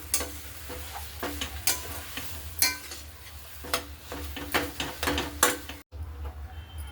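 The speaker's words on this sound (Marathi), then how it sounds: "आता हे बटाटे या वाटणामध्ये छान मिक्स करून घेऊ." Mashed potatoes are stirred into spice paste in a pan for Mumbai vada pav filling, heard as repeated close scraping and tapping spoon strokes over a low sizzle, ending abruptly.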